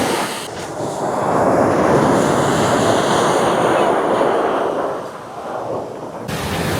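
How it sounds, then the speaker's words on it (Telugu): Ocean waves break on a beach in Bali, a loud continuous roar of surf washing in and out, swelling and easing with some wind buffeting, with no voices. "అలలు కూడా చాలా ఎక్కువ వస్తున్నాయి"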